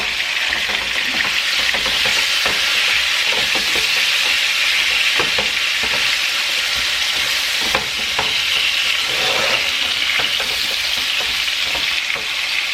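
Pork stew meat frying in a pan for a Mexican green sauce dish, a loud steady sizzle throughout with occasional stirring scrapes and crackles, close and continuous, no talking.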